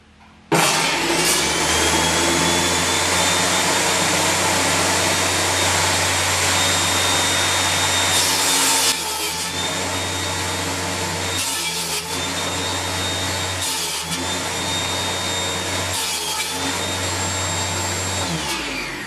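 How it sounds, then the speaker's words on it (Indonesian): A power tool trims the edges of Dutch teak wood boards with a loud, steady, high whine, running continuously for several seconds, then in shorter bursts separated by brief pauses. "Kita potong samping-sampingnya biar rapi."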